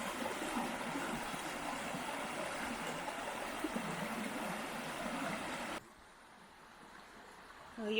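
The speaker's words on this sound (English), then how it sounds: "Well, I got down to the little creek." A little creek near old farmhouse ruins burbles steadily at close range, a soft continuous trickle that drops abruptly to a quieter outdoor hush partway through, with a brief rustle at the end.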